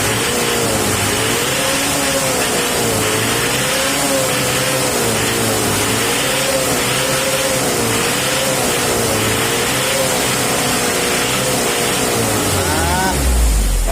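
A diesel engine in a Mitsubishi L300, just tuned, runs loud and close, its steady drone swelling and easing in repeated rev cycles before a heavier surge at the end.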